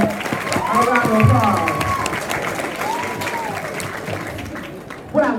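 A school audience at Hoffman Middle School applauds and cheers, a sustained wash of clapping with crowd voices and tonal cries mixed in throughout.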